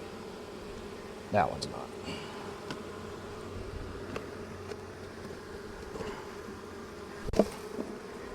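Honey bees buzz around an opened hive during winter preparation, a steady droning hum under occasional short remarks from a person nearby, with a few louder bursts as bees pass close.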